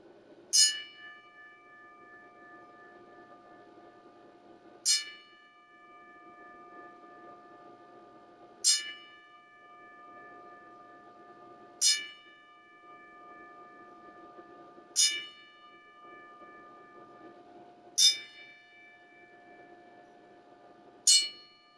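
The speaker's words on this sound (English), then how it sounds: "I ask my ring bell to ring that bell 10 times" A wrestling ring bell rings out seven sharp, clear strikes at a slow, steady pace of roughly one every three seconds. A low steady hum runs underneath and no one speaks.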